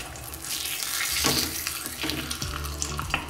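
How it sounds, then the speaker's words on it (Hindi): A cheese-stuffed paratha fries in plenty of ghee in a pan, giving a continuous close sizzle broken by occasional scraping and crackling bursts. "इतना घी डालिए कि आपका पराठा इस तरह से घी बिल्कुल छोड़ दे"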